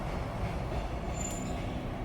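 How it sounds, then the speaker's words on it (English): Trains rolling past at a steady, continuous rumble with wheel noise, moderately distant, heard from inside a community hall with no talk. "Perhaps you can hear the trains, maybe you can hear the occasional car going past."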